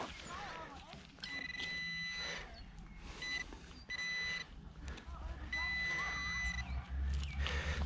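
Repeated electronic beeps from a metal detector in short bursts ring out over a steady low rumble, with a voice talking underneath; the tones start and stop several times.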